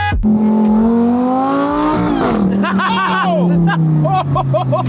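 A car engine revs and accelerates up close, a strong droning tone rising in pitch, then shifting as gears change, with chirpy higher bursts toward the end.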